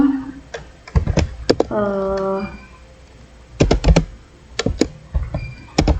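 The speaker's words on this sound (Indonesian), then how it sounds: "kemudian kita ketik print dalam kurung" Fingers type on a computer keyboard in irregular bursts of close, crisp keystrokes, with a short humming tone between clusters of taps.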